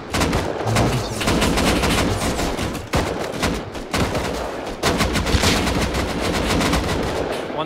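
Dense, sustained gunfire from the survival game Rust, rapid automatic bursts layered with heavier shots that pound almost without pause, loud and close throughout.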